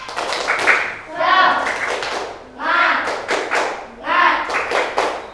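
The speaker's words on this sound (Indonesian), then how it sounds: "Tepuk semangat." A class of children does a rhythmic spirit clap in a classroom, several bursts of group clapping and thumps with a teacher's voice and children's chanting mixed in.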